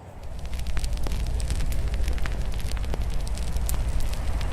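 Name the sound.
fire burning in a backyard fire pit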